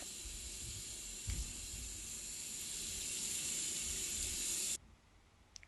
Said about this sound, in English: Next, you're going to rinse your hands. Make sure you get all the soap off.